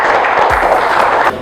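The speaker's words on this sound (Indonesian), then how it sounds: "Tepuk tangan untuk pikir hari ini." Classroom applause for the day's duty students, a dense wash of many hands clapping together, loud and close, ending abruptly after a little over a second.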